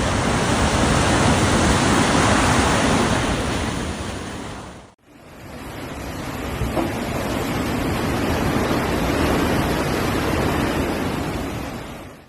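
Floodwater from overflowing rivers in Mersin, Türkiye rushes in a loud, steady roar, with a brief dropout midway before the torrent resumes unbroken.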